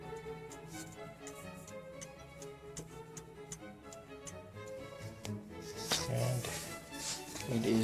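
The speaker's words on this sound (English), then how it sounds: "Might even be able to hear it ticking." A French figural clock with a cleaned and serviced French movement ticks with its pendulum swinging, a steady faint beat close by under some background noise and handling near the end.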